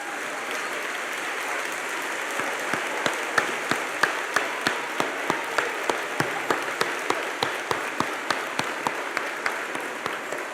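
Applause from the audience at a middle school graduation ceremony, a steady roomful of clapping with a few sharp, regular claps standing out close by, rising a little and then holding.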